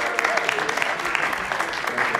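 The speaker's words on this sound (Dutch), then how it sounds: "Nou, applaus jongens" An audience claps at a film festival award ceremony in Amsterdam, a short burst of dense, continuous applause with some voices faintly underneath.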